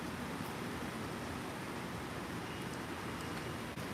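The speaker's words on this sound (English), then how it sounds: "It's raining, yes." Rain falling outside, a steady, faint, even hiss that continues without a break.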